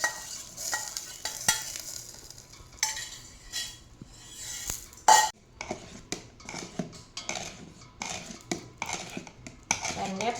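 Cashews and cardamom dropped into hot milk payasam for a Karthigai Deepam festival sweet, with the gas switched off: scattered stirring scrapes and utensil clinks against a pan, close and moderately loud, in irregular bursts with no talk.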